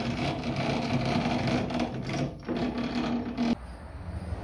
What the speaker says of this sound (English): this motor I can't sell because it's too noisy